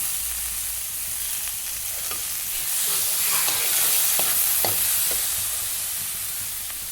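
Tomato, carrot and green chillies stir-fry in a pan with a broad, steady sizzle. A few scraping stirs rise in the middle, and no one talks.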